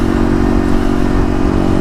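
Kawasaki KLX250 motorcycle fitted with a 13-tooth front sprocket cruising near 55–60 mph, a steady loud engine drone with dense low rumble and wind, constant throughout with no talking.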